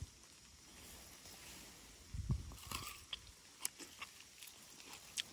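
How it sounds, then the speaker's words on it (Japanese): Someone bites into a wild hardy kiwi fruit and chews it close up, with a soft crunch followed by a series of quiet, irregular wet chewing sounds and no talking. "ちょっと食べてみます。"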